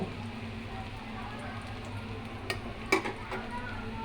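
Food fries in oil in a covered rice cooker pot, giving a faint, steady sizzle with a couple of sharp clinks partway through.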